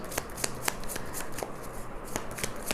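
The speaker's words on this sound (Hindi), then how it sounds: "let's pull 5 cards for your career" Tarot cards being shuffled and pulled in a quiet room, a run of crisp riffling flicks and soft slaps at an uneven pace, close to the microphone with no talking.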